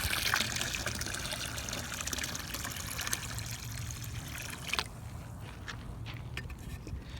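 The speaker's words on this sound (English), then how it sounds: "So we're gonna put some more water in here." Water poured into an outdoor evaporation pan at a Tempe, Arizona weather observation station, a steady trickling splash that carries on throughout, with some faint breaks near the end.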